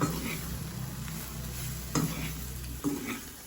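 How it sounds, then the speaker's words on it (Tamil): Potatoes being stirred into a vegetable patty filling in a frying pan, a soft steady sizzle under repeated spoon scrapes and two sharper clinks against the pan, with no voices. "அடுத்ததாக உருளைக்கிழங்கு போடுவோம். வடிவாக கலந்து விடுவோம்."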